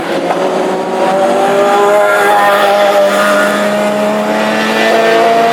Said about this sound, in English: Hughie Weaver with a few pops and bangs, as he was explaining earlier, down to the engine breathing somewhat